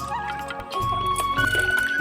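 Water splashes and trickles as it is poured over a girl's head during her bath, a short wet pour under faint background voices.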